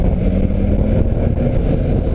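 BMW R 1250 GS motorcycle engine running hard while shifting with a quick shifter, no clutch used: a loud, close, steady low engine drone with rumble, without talk.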